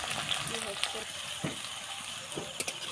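Chopped onions frying in a spice tempering of dried red chilli, bay leaf, cumin, cinnamon, cardamom and cloves for a mutton curry, a soft crackling sizzle with faint stirring taps, fairly quiet.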